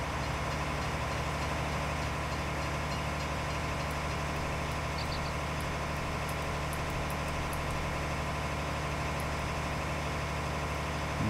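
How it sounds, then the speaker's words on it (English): A John Deere tractor in Farming Simulator 19 hauls a cultivator, its engine a steady, loud, low drone with a constant rumbling vibration that holds unchanged throughout, with no voices. "so we're going to see if this John Deere will pull it"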